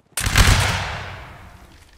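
A musket line volley fires in the Napoleonic Wars video game: one loud, sharp crackling burst of many shots at once, then a long rolling echo fading over about two seconds, with no voices.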